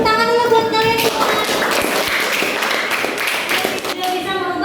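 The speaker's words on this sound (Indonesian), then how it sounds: "semuanya tepuk tangan dulu buat kalian semua" A class of students clapping their hands in a classroom, a brief burst of dense applause between stretches of a teacher's speech, loud and close.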